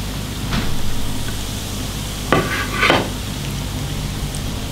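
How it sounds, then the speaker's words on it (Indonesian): Dough pieces fry in hot oil, a steady close sizzling hiss throughout with a few brief sharper crackles and stirring clicks, no voices. "Minyaknya udah panas. Langsung digoreng aja."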